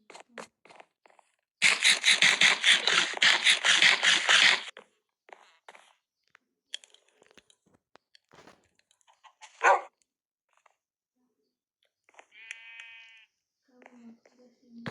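A dog barks close by in a loud, rapid run lasting a few seconds, then gives a few isolated sharp barks amid people talking.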